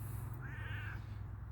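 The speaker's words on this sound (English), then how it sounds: "you just a little rotten cat" A hungry stray cat meows once in a drawn-out, rising-then-falling call, close and clear over a steady low hum, with no talking.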